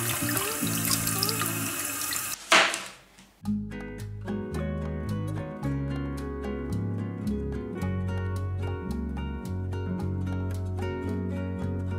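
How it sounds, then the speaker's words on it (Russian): Tap water runs for about two seconds while apples are washed for a classic Russian charlotte apple pie, with steady background music, then the flow stops and only the music carries on. "Мы их помоем и нарежем."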